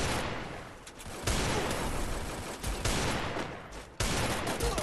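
Gunfire from the Free Fire shooting game, with loud sustained bursts of automatic fire, several abrupt volleys and resumptions filling the whole stretch and heard alone without talk.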